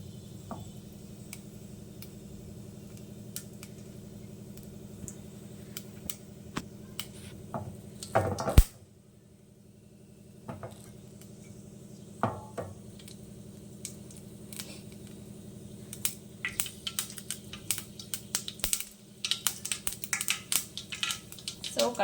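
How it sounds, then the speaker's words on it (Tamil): Mustard seeds sputter in hot oil with fennel seeds, crackling in scattered faint ticks over a steady low hum, fading after a loud clatter and then building into busier popping. "ஸோ கடுகெல்லாம் பொரிய ஆரம்பிச்சிருச்சு"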